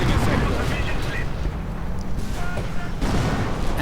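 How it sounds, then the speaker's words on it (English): Artillery shells boom and rumble in a World War II real-time strategy battle, a dense, continuous barrage of explosions with brief gaps, loud and close throughout. "Artillery getting called in."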